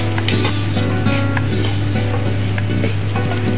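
Rice fries with spices in a pan on the stove, hissing steadily while a utensil stirs and scrapes through it in repeated close strokes.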